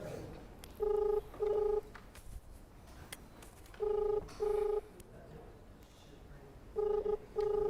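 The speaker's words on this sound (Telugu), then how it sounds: "అతనికి ఫోన్ చేస్తున్నా" An outgoing phone call rings back with a double-burst tone, heard three times at regular intervals. A quiet room murmur lies underneath, and nobody speaks over the tones.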